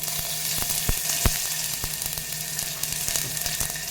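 Garlic, asafoetida and curry leaves frying in hot oil as a tempering for carrot rasam, a steady close sizzle with scattered pops and crackles running throughout, no voices.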